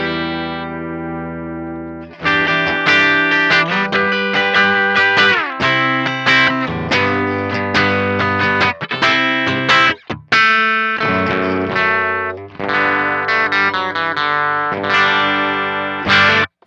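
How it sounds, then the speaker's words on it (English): Electric guitar played through an Intensive Care Audio Life Support overdrive pedal set to a low-gain, sparkly clean tone, with a sustained chord, then strummed and picked chords ringing loudly and continuously and brief pauses between phrases. "So if we turn that down, we're gonna get pretty sparkly clean sounds."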